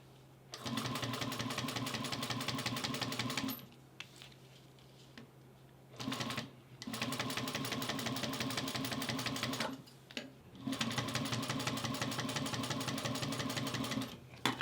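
A Juki industrial sewing machine stitches in three long, steady, rapid runs with short pauses between, loud and close, with no talk over it.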